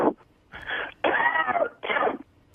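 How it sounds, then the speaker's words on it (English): Three harsh, raspy coughing bursts close to the microphone, the middle one longest, separated by brief pauses. "What is this coughing thing?"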